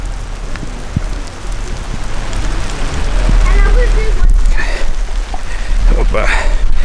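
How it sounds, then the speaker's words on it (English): Steady rain falling outdoors at a meet-and-greet gathering, a continuous broadband hiss that thickens and grows louder partway through, with people talking faintly underneath. "Now the rain seems to have kind of set in a little bit more."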